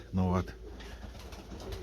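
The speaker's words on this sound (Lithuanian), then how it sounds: "čia, apie 500 balandžių" A loft holding about 500 pigeons, with the hens let out, gives a short, loud burst of cooing near the start, then settles into a low murmur of birds and faint voices.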